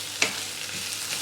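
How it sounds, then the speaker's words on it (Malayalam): Sliced onions sautéing over a low-medium flame until soft and lightly coloured for Kerala pork chops: a brief, soft, steady sizzle with one sharp tap near the start, no speech. "സവാള ലോ മീഡിയം ഫ്ലെയിമിൽ വെച്ച് വഴറ്റാൻ തുടങ്ങിയിട്ട് ഒരു 10 മിനിറ്റ് എല്ലാം കഴിഞ്ഞിട്ടുണ്ട്"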